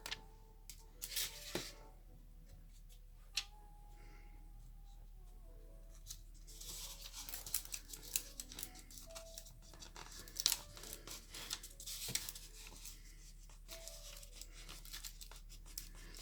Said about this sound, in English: Peel the backing off.